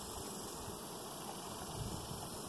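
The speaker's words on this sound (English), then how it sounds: "Watch the bees right there." Honey bees buzz around a hive box, a dense, continuous drone of many insects close by that holds steady throughout, with no talk.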